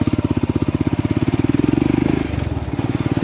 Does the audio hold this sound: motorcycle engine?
yes